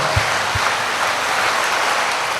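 Steady wash of audience clapping fills the whole stretch, dense and even, with a couple of low thumps near the start and no voices.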